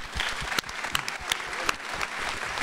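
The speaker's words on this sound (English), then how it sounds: "One last round of applause." Audience applause fills a film festival Q&A, a dense burst of clapping with sharp individual claps standing out, moderately loud and steady across the short stretch.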